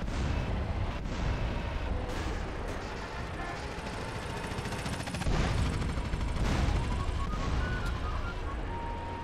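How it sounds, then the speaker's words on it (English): Repeated explosions and tank cannon fire in the video game GTA San Andreas, loud booming blasts and crackling gunfire layered over each other in a continuous chaotic barrage. "Look at all those explosions."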